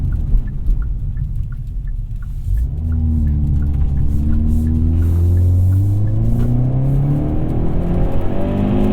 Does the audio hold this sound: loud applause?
no